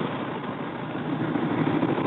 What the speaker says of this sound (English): Car wash.